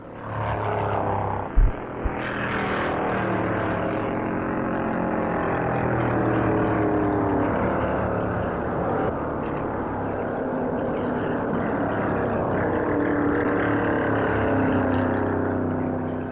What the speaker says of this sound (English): The field strings out as Banjo Matthews sends his Pontiac screaming north at 140 miles an hour.